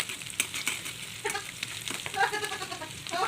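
Green chilli, curry leaves and sliced garlic fry in oil in a pan, a quiet patchy sizzle with scattered crackles and light stirring, close but soft, with no talk.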